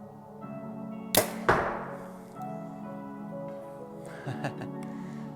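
An arrow leaves a Hoyt or Mathews target bow with a sharp snap, then strikes the target with a crisp thwack a moment later. A few softer knocks and clatters follow in a quiet outdoor space.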